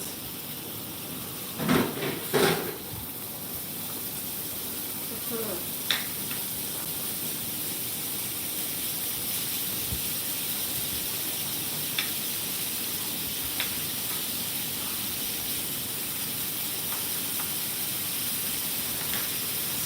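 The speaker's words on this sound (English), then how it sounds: "I don't know if you can hear the sizzle. That's what we want." Steady frying sizzle with a constant hiss, a couple of louder crackles near the start and scattered small pops, no voices.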